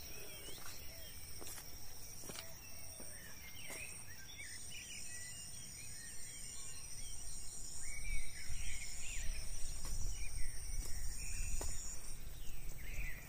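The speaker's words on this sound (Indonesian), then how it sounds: "di sini terdengar juga suara-suara burung" Birds call in a dense forest in Indonesia, scattered chirps and whistles near and far over a constant high insect drone, with a faint rumble of footsteps or wind growing louder midway.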